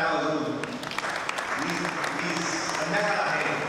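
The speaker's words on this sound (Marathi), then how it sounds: "आपण सगळ्यांनी जोरात टाळ्या वाजवून" Audience clapping at a public event honoring guests, a steady crowd applause spread across the whole stretch, with a voice or murmur mixed underneath.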